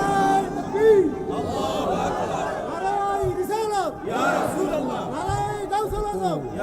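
A large crowd at an outdoor Islamic religious sermon gathering in Cumilla chants slogans in unison, a loud rhythmic swell of many voices rising and falling in repeated waves.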